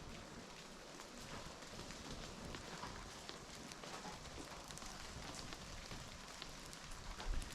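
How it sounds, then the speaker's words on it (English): Steady rain falling outdoors on a wet day beside a Finnish-made excavator, a faint continuous hiss of drops pattering on surfaces with scattered tiny ticks and no voices. "today is a rainy day"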